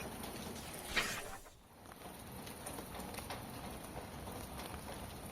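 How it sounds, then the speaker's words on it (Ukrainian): Soft, steady patter of rain falling on a surface, with a brief rustle early on and no talking. "Дощ іде"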